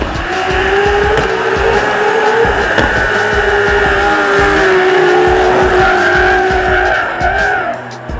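Nissan S-chassis drift cars at a competition track roar loudly with revving engines and long sustained tire squeal, shifting pitch as the cars slide, close and continuous.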